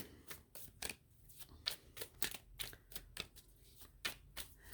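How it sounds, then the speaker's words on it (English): A deck of Cosmic Slumber tarot cards is shuffled by hand, giving close, crisp riffling and snapping bursts in a steady, uneven rhythm with no talking. "the cards, as I'm shuffling them"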